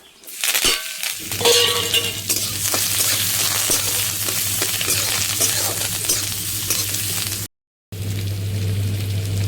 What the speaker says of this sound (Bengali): এবার আমি দিয়ে দেবো কারি পাতা, রসুন আর কাঁচা লঙ্কা।